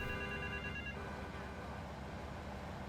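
A telephone rings in GTA 3 Definitive Edition, the game's electronic ring fading out after the first second beneath a constant low rumble of traffic and ambient game noise.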